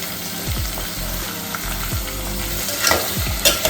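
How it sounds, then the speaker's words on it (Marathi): Chopped vegetables for pav bhaji fry in oil while a spoon stirs them, giving a loud, continuous sizzle under several distinct scraping strokes against the pan and a few sharper clinks near the end. "आणि आता एकदा आपण हे एकत्र करून घ्यायचं तेलामध्ये हे अशा एक मिनटं भाज्या परतवल्यानंतर"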